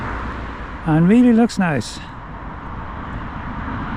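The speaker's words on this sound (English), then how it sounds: "I'm sorry about the road traffic noise." A steady low rumble of road traffic fills the background at a canal mooring while someone speaks briefly in the foreground.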